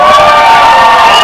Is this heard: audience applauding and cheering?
yes